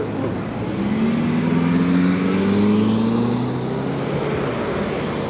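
Steady road traffic at the start of rush hour, heard from a folding e-bike waiting to cross: a continuous car engine drone with rising pitch as vehicles pass and accelerate close by, no voices.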